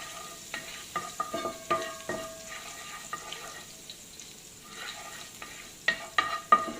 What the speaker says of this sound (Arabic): وتحطي فصين توم، بنخليهم يتبلوا بس ما يحمروش بالطريقة دي